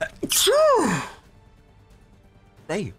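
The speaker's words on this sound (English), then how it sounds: "I gotta sneeze." A single loud, close sneeze bursts out with a sharp intake and explosive release, followed after a pause by a brief spoken word.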